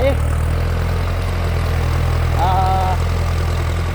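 A Massey Ferguson MF5710 tractor with an air-conditioned cab idles steadily, a low, even engine rumble holding at constant loudness throughout, with a brief faint tonal whine midway.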